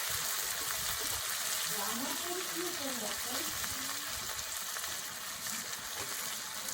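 Drumstick flowers fry with onion, turmeric, chili powder and salt in a pan, giving a steady close hiss and crackle with soft stirring, while a faint voice murmurs underneath.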